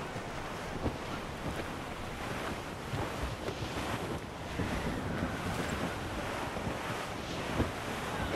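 A sailing ship under way at sea in Assassin's Creed Rogue, with steady rushing waves and wind noise filling the scene at a constant, moderate level, no speech.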